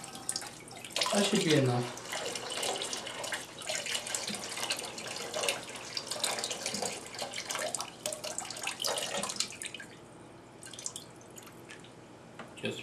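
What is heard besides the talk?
water siphoned out of a fish tank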